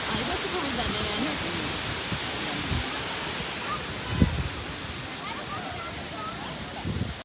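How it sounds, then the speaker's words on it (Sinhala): Bomburu Ella, also called Perawella Falls, one of Sri Lanka's widest waterfalls, roars with steady, loud broadband rushing water throughout, and faint voices sit beneath it. "ලංකාවේ තියෙන දියඇලි අතරින් පළලින් වැඩිම දියඇල්ලක් විදිහටත් හඳුන්වනවා"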